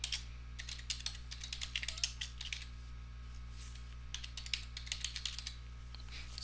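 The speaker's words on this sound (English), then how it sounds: "So I type that in and click OK" Typing on a computer keyboard in a quiet room, two bursts of rapid, light key clicks separated by a short pause, over a low steady electrical hum.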